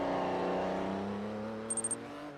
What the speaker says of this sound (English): Plus you get the turbo wind up, sounds like a Hoover.